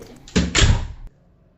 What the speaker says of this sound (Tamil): கதவை வந்து அப்படியே விட்டுடலாம் அது ஆட்டோமேட்டிக்காக அப்படியே லாக் ஆகிடும்